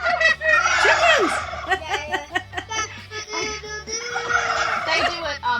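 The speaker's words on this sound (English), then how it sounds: "Chickens!" Chickens near horses break into a loud, rolling chorus of squawks and gobbling-like calls, close and overlapping, rising in two bursts with a quieter stretch between.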